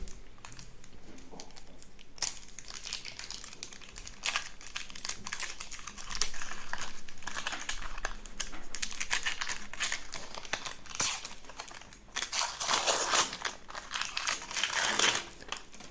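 A paper seal on a Vampire: The Eternal Struggle Tzimisce Fifth Edition card game box is torn open, giving sustained close crinkling and rustling of paper in bursts, loudest toward the end.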